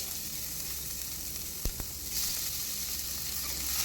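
Onion fries in oil with dry chilli and bay leaf for spicy ghugni, a continuous close sizzle with a couple of sharp knocks from stirring midway.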